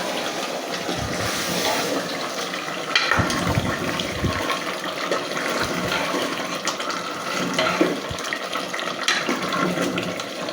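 Water poured into a spicy chicken curry with tomatoes, a continuous rushing, splashing pour lasting about ten seconds, close and steady, with no voices.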